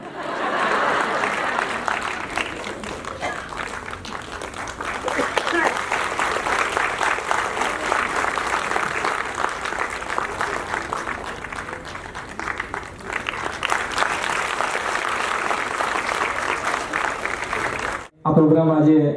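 At a Shringar Shibir gathering, an audience claps loudly and continuously for most of the stretch, with a short dip midway and a sudden drop near the end. Then a loud burst of other sound follows.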